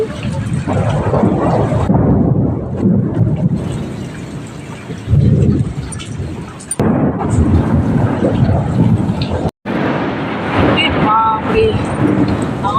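Heavy rain pours steadily while loud thunder rolls and crashes through, swelling and fading in long rumbling waves with a short drop-out midway.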